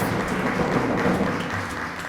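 Applause from a studio audience at a children's television game show as a child is called up, a steady moderate wash of clapping with no speech over it.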